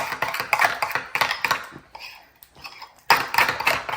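Spices with ground ginger and garlic paste stirred in a bowl for chicken do pyaza, a rapid series of close scraping and clinking strokes in bursts, pausing briefly before resuming.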